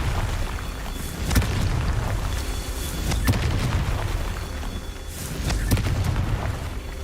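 Repeated Confringo spell blasts in the Hogwarts Legacy video game burst out as sharp booms over a dense, rumbling game soundscape, several hits spaced a second or two apart, with a man briefly calling out spell names.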